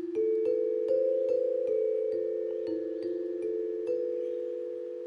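Struck repeatedly with a mallet, an undampened Freenotes Wing bar rings out in clear sustained metallic tones, each soft hit renewing the long hum, close and steady with no talking.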